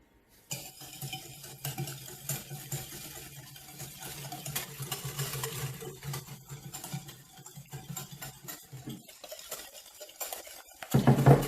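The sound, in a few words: mixing sugar and vanilla sugar for tiramisu in bowl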